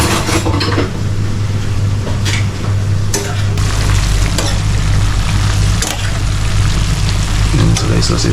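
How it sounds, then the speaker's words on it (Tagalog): Mixed vegetables fry and sizzle loudly in a hot pan, a constant crackling hiss broken by repeated scraping and clanks of a utensil stirring close up. "ilulunod ko na yung mix na gulay para sa pagluluto nito"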